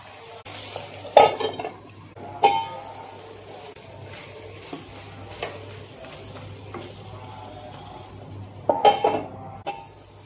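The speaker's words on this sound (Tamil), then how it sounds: "எல்லாம் நல்லா வதங்கி வரட்டும்" Chicken and onions are sautéed in a pan, a low sizzle running throughout while a metal spoon clanks and scrapes against the pan in a few louder bursts.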